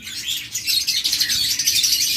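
Pet lovebirds, cockatiels and budgerigars bred for sale chirp together in a dense, continuous chorus of high tweets, fairly close and steady throughout.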